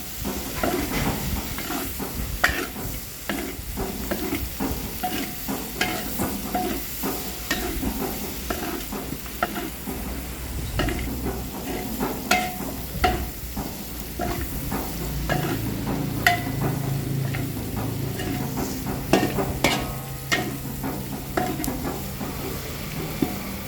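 Turmeric-fried beef sizzling in a pan, a constant frying hiss broken by frequent scraping clinks of a utensil as it is stirred, close and fairly loud.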